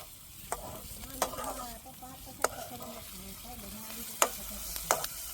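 Oil hisses and sizzles in a pan while Maggi noodles fry, with sharp pops and stirring scrapes scattered through a steady crackle, close by, as people talk quietly in the background.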